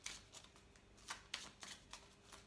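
Quiet, close shuffling of tarot-style cards during a reading, a series of soft riffling swishes in an irregular rhythm with no voice over them.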